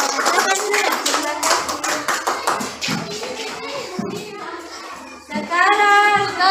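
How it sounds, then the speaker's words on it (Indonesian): Children in a classroom clap their hands for a classmate, a quick rhythmic burst of claps up close, followed by kids' voices chattering near the end. "Tepuk tangan dulu tuh temannya"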